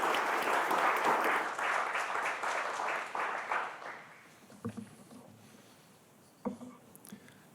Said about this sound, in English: So let's give him a round of applause as he comes up.